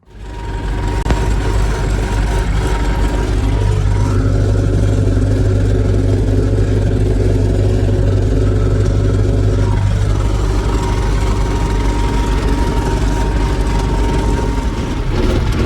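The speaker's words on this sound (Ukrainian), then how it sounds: "Так, колеги, їдемо носити гербіцид на сою." An MTZ 892 tractor's engine drones steadily and loudly while driving out to spray herbicide on a soybean field, a constant heavy rumble with a slight shift in pitch midway.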